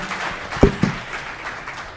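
A university audience applauds after a speech, a soft diffuse wash of clapping with a couple of louder nearby claps.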